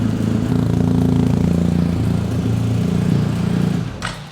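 A BMW GS adventure motorcycle engine idles steadily at close range with a low, even rumble, then cuts off just before the end.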